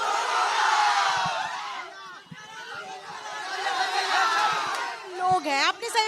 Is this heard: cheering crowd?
yes